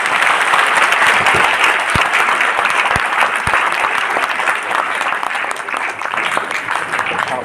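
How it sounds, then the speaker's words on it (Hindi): Loud, close audience clapping at a leadership training session, a dense sustained round of many hands with a few sharp individual claps standing out and faint voices beneath. "एक बार तालियां बजाएंगे दोनों।"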